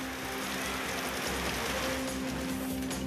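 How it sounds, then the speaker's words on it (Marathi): Heavy monsoon rain pours down in Satana taluka, Nashik, as a dense, steady hiss that fills the whole stretch, with a faint low hum underneath and no voices. "सुरुवातीला पावसाच्या मध्यम ते हलक्या स्वरूपाच्या सरी कोसळल्या, मात्र काही काळानंतर पावसानं दमदार बॅटिंग केली।"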